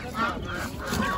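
Young turkeys at a poultry market, heard as a brief burst of honking, gobbling bird calls at close range amid general market murmur.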